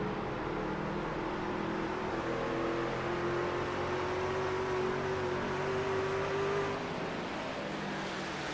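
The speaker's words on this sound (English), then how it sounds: "You can really hear how bogged down this truck gets on the exit." A race truck in a video game at the Milwaukee Mile strains as it bogs down exiting a corner, its engine droning steadily with a slowly rising pitch under constant loud roar, then easing off near the end.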